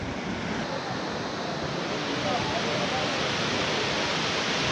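Shower waterfall reached on a hike in Hawaii, a steady, dense roar of falling water that fills the whole clip loudly and evenly, close by and unbroken.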